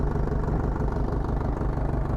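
A 2000 Mitsubishi Fuso truck's diesel engine idles with the cab tipped up, a close, steady low rumble with an even rapid pulse and no speech.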